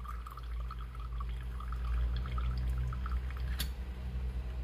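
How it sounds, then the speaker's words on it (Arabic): Water is pressed through a Flair espresso maker with no coffee inside while it is cleaned: a steady, close pouring and trickling stream with scattered drips and one sharp tap near the end. "هنحط مي بس بدون قهوة، ونحط البستم ونروح ضاغطين عادي، نزلين كل المي"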